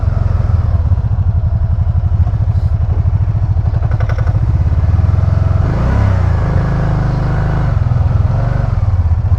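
A 2012 RTS motorcycle engine is heard on a test ride after its VCM was replaced, running close and loud with a fast, even pulsing beat. The revs swell briefly partway through and then settle.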